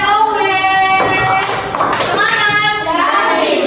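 A group claps the rhythmic 'tepuk WOW' cheer in a teacher-training class session, loud and close, with voices shouting along over the sharp, quick claps.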